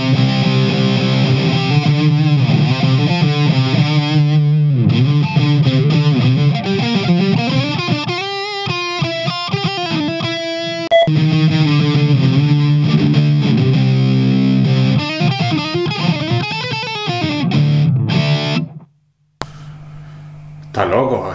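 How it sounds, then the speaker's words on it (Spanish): Electric guitar played through a DOD Metal X FX70 distortion pedal set to minimum distortion, low and high knobs turned partway; loud, continuous riffing and chords with a heavily saturated tone, cutting out briefly near the end. "Yo estoy con el mínimo de distorsión."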